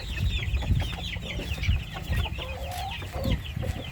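Backyard chickens cluck and murmur close by as they peck at fallen ripe mangoes, with soft overlapping calls and a few higher squawks throughout.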